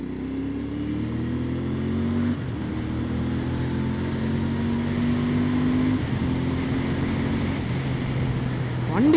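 A Royal Enfield Bear 650 motorcycle with a 650cc engine pulls away and accelerates in low gear, its steady engine drone rising in pitch with gear changes, loud and close throughout.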